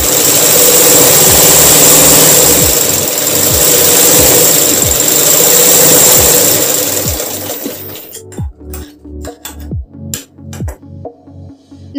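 An electric sewing machine motor whirs steadily and loudly as the foot pedal is pressed, then slows into a string of separate rhythmic needle clacks as the pedal is eased.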